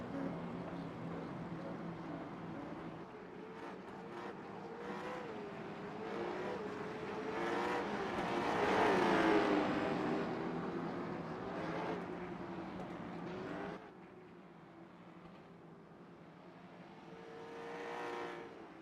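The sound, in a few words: late model stock race cars racing at North Wilkesboro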